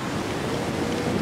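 Car ploughing through water in the racing game Forza Horizon 4, a dense, continuous splashing rush like surf, steady and loud without any voices.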